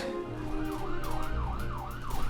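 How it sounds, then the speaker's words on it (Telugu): A wailing ambulance siren sweeps up and down repeatedly, loud and fairly close, over a low engine rumble. "call the ambulance"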